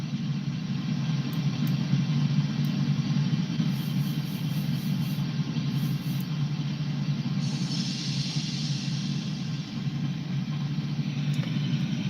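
A locomotive diesel engine in Train Simulator 2019 runs under light throttle, a steady low rumbling drone with constant hum, moderately loud and continuous, with faint higher clicks and a brief hiss midway.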